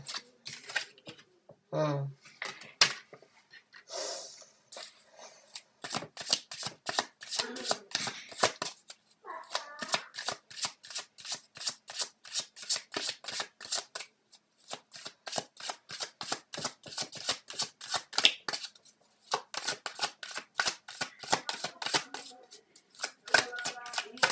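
Tarot cards being shuffled in rapid, rhythmic riffles close up, a long run of crisp flicking bursts with a few short pauses and some talking at the start.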